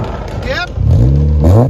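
2017 Honda Accord with a 2.4L four-cylinder and Magnaflow exhaust revving up close, a loud rising engine roar that swells sharply, with a voice talking at the start.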